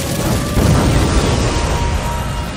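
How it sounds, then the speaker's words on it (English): An anime fire-style flame bomb erupts in a loud, sustained roaring blast, a dense rumbling explosion that holds steady without pause for a couple of seconds. "Fire style! Flame bomb!"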